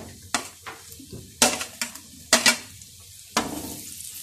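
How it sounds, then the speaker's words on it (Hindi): Potato french fries are fried a second time in hot oil, a steady sizzle broken by several sharp clinks and scrapes of a utensil stirring in the pan, close and loud with no talk. "अब मैं दोबारा फ्राई करने लगी हूँ। ऑयल हमारा गर्म ही है,"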